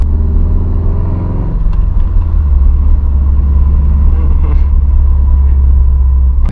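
A 2005 Subaru Impreza WRX STI drives through quick turns with a loud, steady engine and road rumble heard from inside the car. No one speaks.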